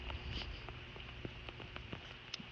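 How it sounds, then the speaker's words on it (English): Steady rain patters down during a mini thunderstorm in the middle of a street, a soft continuous hiss broken by scattered louder drops, with no thunder or talk. "there's a lot of rain happening right now"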